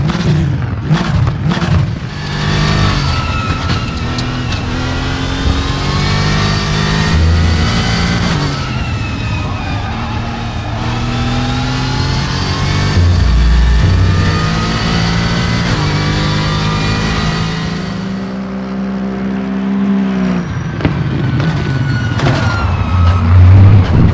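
An Aston Martin GT3 racer with an AMG 4-liter twin-turbo V8 in RaceRoom, roaring loud and close as it revs and climbs through gears, with pitch sweeps rising and falling between shifts, no talk over it.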